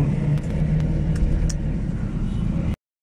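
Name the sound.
heavy road traffic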